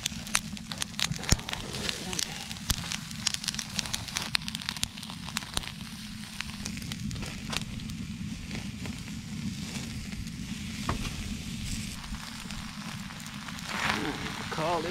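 Steaks sear on a hot surface with a steady crackling sizzle full of sharp pops, close and continuous, while a person talks over it.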